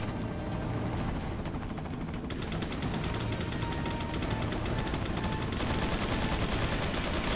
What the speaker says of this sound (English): Shoot him, Mike.